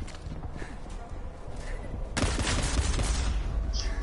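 Gunfire in a shooter video game breaks out abruptly halfway through, turning a quieter background into a dense, loud barrage that continues to the end.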